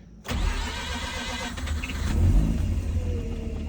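Mazda RX-8 rotary engine starting after sitting for weeks with its airbox off: a sudden crank catches into a loud, rough, close idle with a rev rise in the middle, no talk.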